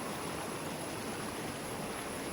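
A rushing river in flood at Nilambur, a loud, steady broadband roar of fast water with no break and no voices.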